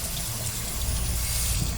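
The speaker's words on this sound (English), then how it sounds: "Hot water's working." Water running steadily from a newly installed RV bathroom faucet into the sink, a continuous close splashing gush with no talk.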